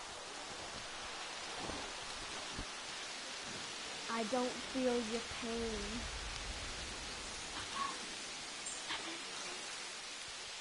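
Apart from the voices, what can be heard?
heavy rain in video game Jurassic World Evolution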